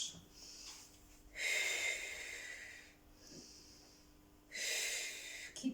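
Heavy breathing during a back-arching exercise routine, loud hissing breaths in and out through the nose and mouth, close and alone, in long repeated strokes with short pauses between.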